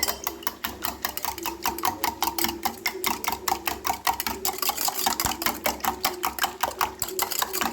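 Eggs and salt beaten hard in a bowl, producing a fast, steady run of sharp rhythmic clicks and taps from the whisk or fork against the bowl, close and continuous with no talk.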